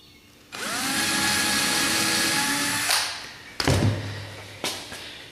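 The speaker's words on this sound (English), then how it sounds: "And then we can start installing our screws here." A power drill drives screws into wooden beehive parts for a plexiglass observation window. The drill whines loudly and steadily for about two and a half seconds, then gives way to thumps and brief rattles.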